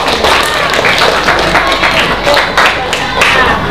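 Dense, crackling clapping from a class of young schoolchildren, steady and fairly loud throughout, with a busy classroom murmur underneath.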